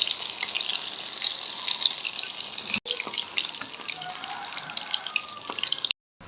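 Banana bajji frying in hot oil gives off a steady, fairly loud sizzling hiss that crackles faintly throughout, then cuts out abruptly near the end.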